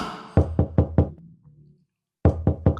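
Knuckles rap on a bathroom door, four quick knocks, a short pause, then three more, close and loud with nothing else around them.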